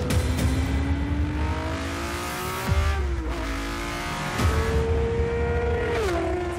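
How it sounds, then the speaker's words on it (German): A race car engine roars loudly and close, climbing in pitch as it accelerates, then drops briefly at each gear change before winding up again. "Wenn du dann anfängst loszufahren und die Gänge durchdrehst, das ist so brutal laut"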